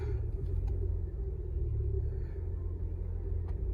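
A car drives home along a road in the Kyiv region countryside, with a steady low engine and road rumble filling the cabin throughout and no talk.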